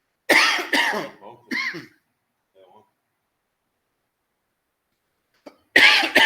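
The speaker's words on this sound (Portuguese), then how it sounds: "Tosse." Several sharp coughs come in a quick cluster, close and loud, followed by a faint throat noise and another burst of coughing after a quiet pause, with a word spoken between them.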